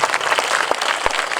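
Audience applause for a children's Srinivasa Kalyanam dance performance in Ongole, a steady dense patter of many hands clapping together, with a few sharper, louder claps standing out, brief and unbroken, with no talk.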